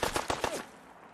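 Rapid gunfire in Fallout 4, four quick sharp shots in a tight burst lasting about half a second, then a short fading tail, loud and close.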